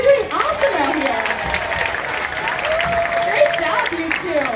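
Audience applause for two seals at an aqua park show in Hershey, steady clapping with crowd voices and cheers mixed in, moderately loud throughout.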